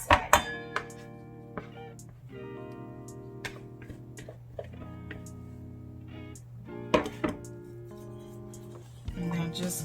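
Keto low-carb bread batter spooned into a dish, sharp utensil clinks and taps against the container scattered through the clip, alongside a low steady background hum.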